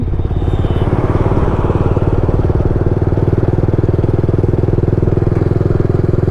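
A motorcycle engine accelerating in fifth gear runs loud and close with a steady, rapid thumping drone that holds constant throughout.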